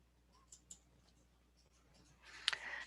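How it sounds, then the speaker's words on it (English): A computer mouse clicks a few times, crisp and close, in a quiet room. A short burst of faint rustling follows near the end. "So you're going to click web."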